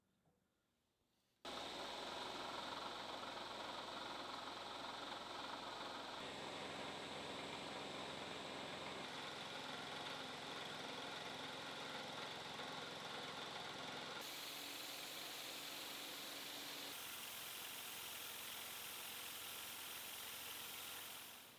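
Steady mechanical roar of a mill running a chamfering tool along the straight edges of a workpiece, starting abruptly after a quiet moment and holding a loud, continuous drone with a slight shift in tone partway through.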